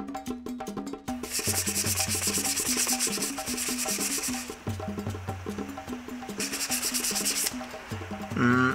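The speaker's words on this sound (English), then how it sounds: "I want to scuff the surface to in order to remove this thing over here." Hand scuffing of a metal CVT transmission part, a repeated rhythmic rubbing and sanding scrape in steady strokes, close and fairly loud, with short pauses between bursts and some background music.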